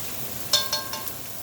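Ramen noodles and jumbo shrimp being stirred in a pan, with a low sizzle throughout and a few brief scraping clinks of a utensil against the pan.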